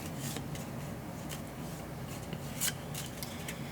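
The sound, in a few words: shuffling a deck of board game cards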